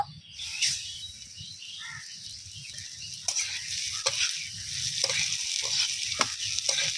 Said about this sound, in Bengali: এবার মুগ ডালটা ভেজে নেব